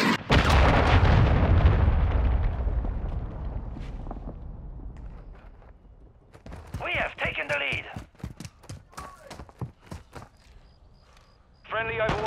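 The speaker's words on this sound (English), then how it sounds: "Friendly cruise missile inbound." A friendly cruise missile strike in a video game detonates with a loud, close boom that rolls off into a long fading rumble, followed by scattered distant pops and a spoken radio voice.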